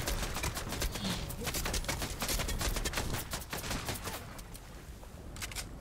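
Gunfire from an enemy team in an online shooter, dense rapid bursts of shots crackling nearly continuously for several seconds and thinning toward the end, with faint voices underneath.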